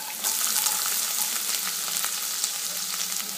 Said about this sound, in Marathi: तेलावर चांगला थोडासा कलर बदलेपर्यंत परतवून घ्यायचा आहे